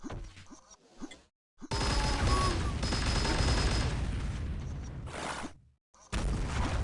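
Shotgun blasts in a 2011 free-for-all match of a video game, heard as a loud, dense barrage of overlapping gunfire with a quieter start and brief silent gaps between heavy stretches.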